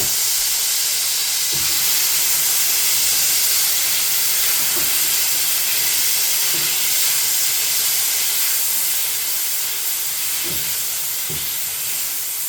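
Broccoli returned to a pan of garlic oil over medium heat for bucatini aglio e olio, giving a steady, even hiss of frying with a few soft low knocks scattered through, no talking.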